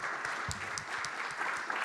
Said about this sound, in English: Everyone give Steve a big round of applause.